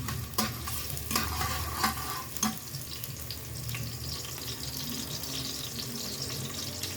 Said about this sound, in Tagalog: Tapos mainit na, lagyan natin ang bawang. Sabay natin ang sibuyas.